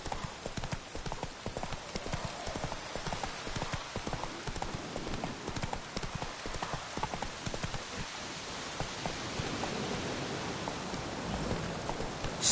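Roach, the horse from The Witcher 3, trots with steady clip-clopping hooves while rain hisses across the ground around it, close and continuous.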